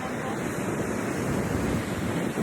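Strong wind buffets the microphone on a beach in northeast Brazil, a loud, constant roar blended with the wash of surf, steady throughout with no clear voices.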